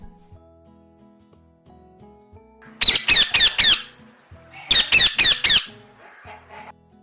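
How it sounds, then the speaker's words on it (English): A parrot squawks loudly in two close bursts of about four harsh, shrill calls each, with a faint quieter background before and between them. "parrot,"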